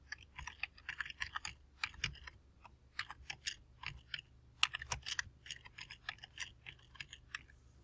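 Keystrokes on a computer keyboard in quick uneven bursts of light clicks with brief pauses, close and faint against a quiet low hum.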